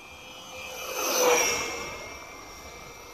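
A radio-controlled F18 model jet with an elevon setup, powered by a three-cell battery, flies past as a whining, rushing drone that swells to a peak midway and then fades, heard at a distance.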